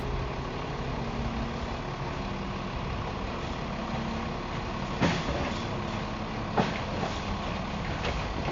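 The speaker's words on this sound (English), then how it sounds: "the truck coming in, loading 2 crates" A truck rumbles steadily on a sugarcane farm as it comes in to load two crates, with a low, continuous engine drone and a couple of brief clunks.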